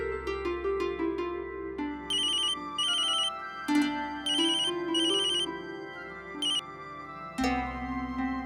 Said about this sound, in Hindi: अजय को फोन करती हूँ।